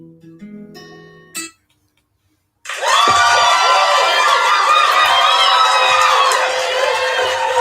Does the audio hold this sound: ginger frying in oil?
no